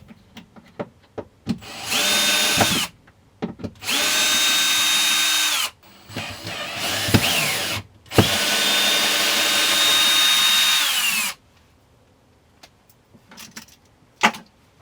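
Power drill driving bolts into a bed frame: several loud, sustained whirring bursts of a few seconds each, broken by short pauses and scattered clicks and knocks of handling, ending in quiet with a final sharp tap.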